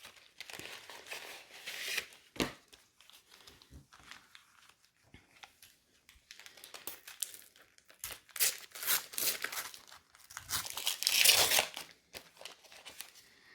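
Panini sticker packets for a pink Gorjuss album being torn open, crinkly paper rustling and ripping in irregular bursts, growing louder and denser toward the end.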